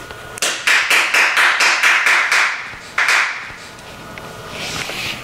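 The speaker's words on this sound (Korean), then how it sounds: "박수!" A handful of people clap together in an office meeting, about a dozen quick, close, fairly even claps over a few seconds, then a lone louder clap followed by quieter room noise.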